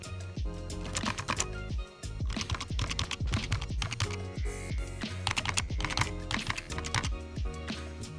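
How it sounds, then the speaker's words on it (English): Typing on a Logitech K270 keyboard, with a dense run of quick plastic key clicks and taps, close and fairly quiet, continuing steadily for several seconds with no voice over it. "here we have the Logitech K270. This is again a great keyboard"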